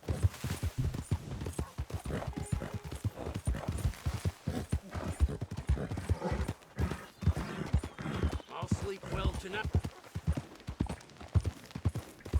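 Horse hooves clip-clop in a quick, steady rhythm close by in the video game Red Dead Redemption 2, with voices talking over the hoofbeats.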